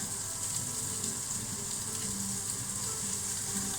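Beef browning in a pan for stew, a steady, dense sizzle and crackle of frying meat that holds even throughout, close up and with no talking.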